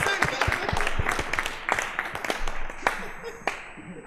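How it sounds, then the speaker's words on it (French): Scattered clapping and applause from a small audience at a French-language comedy show, with individual sharp claps standing out irregularly, some voices mixed in, thinning out toward the end. "Applaudissez pour moi, applaudissez."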